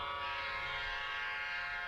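A steady, loud horn of an Amtrak EMD F40PH locomotive blares continuously, a sustained harmonic tone holding level with no pauses and no voices.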